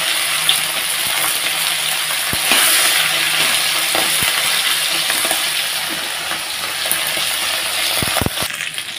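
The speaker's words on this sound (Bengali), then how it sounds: "মাছটা আবার কড়াইতে ভেজে চাইছি" Fish frying in hot oil in a wok gives a steady, loud sizzle throughout, with a few sharp clinks and taps of a utensil near the end.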